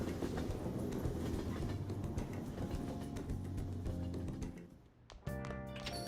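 A train runs in the video game Persona 5 Royal with a steady rumbling clatter that fades near the end, followed by a brief tonal chime-like burst.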